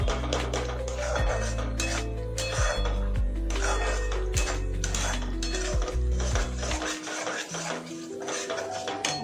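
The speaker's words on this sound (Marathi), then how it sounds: "असे मसाले मिक्स करूया। मसाले मिक्स व्यवस्थित मस्त करायचे आहेत।" Spices being mixed in a bowl, a spoon scraping and clinking against the bowl in a steady, busy rhythm, close and moderately loud, with a low mechanical hum underneath that cuts out near the end.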